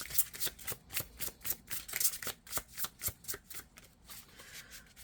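Tarot cards riffle and slap in a quick, rhythmic shuffle, close and crisp, with repeated soft bursts over several seconds and no talk.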